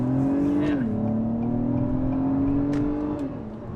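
A 2021 Acura TLX Type S sedan powering out of a turn, its engine note droning steadily and dipping slightly in pitch as it pulls, heard from inside the cabin without talk.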